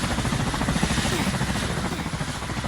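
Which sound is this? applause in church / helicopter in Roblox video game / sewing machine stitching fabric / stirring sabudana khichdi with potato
helicopter in Roblox video game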